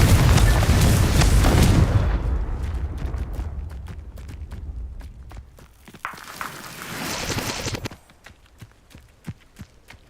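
A Confringo blasting spell explodes in Hogwarts Legacy, a loud, deep blast that booms at the start and then rumbles off, followed by a weaker second burst and a run of sharp, scattered impacts.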